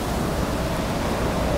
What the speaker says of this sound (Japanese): すごいですね、波が出てます